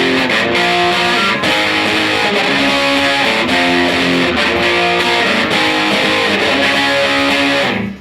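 A heavily distorted electric guitar plays three-note power chords in a riff, loud and dense with a chugging rhythm that rings on and then cuts off at the end.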